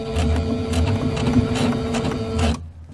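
A sewing machine stitches a quilted pillow wall hanging with a loud, fast mechanical whir and rhythmic needle thumping, close by, running steadily for about two and a half seconds before stopping abruptly.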